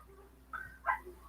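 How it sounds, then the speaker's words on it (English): A few short, high yips from riled-up puppies, two brief bursts close together over a quiet indoor background, with no talking. "Oh, these puppies are riled up."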